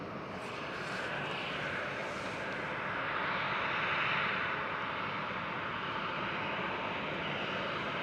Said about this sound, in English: Pushbacks, just like this Aer Lingus A320 has just done.